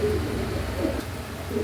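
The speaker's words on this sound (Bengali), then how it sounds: "তারপর দেখেন আমার এখানে এক জোড়া কবুতর আছে" A pair of pigeons give soft, low coos, faint and intermittent, over a steady background hum.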